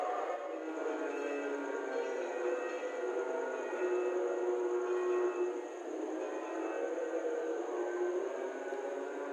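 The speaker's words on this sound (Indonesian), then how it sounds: "kereta api Turangganya kemungkinan barusan melintas langsung stasiun Sumombito" A Turangga express train running through a station without stopping, a steady continuous rumble and rail noise with a faint whistle tone, heard from a moving train.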